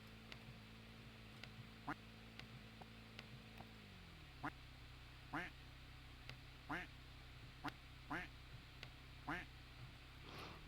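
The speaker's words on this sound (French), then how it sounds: "Donc on entend le son d'une oie, d'un canard." A car horn in the Roblox game Brookhaven RP honks like a duck's quack, about eight faint nasal bursts at irregular intervals over a low steady hum.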